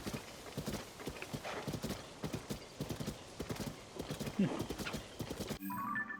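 Horse hooves clip-clop steadily in Zelda: Tears of the Kingdom, a quick rhythmic trot that stays close and clear, with a brief whinny partway through.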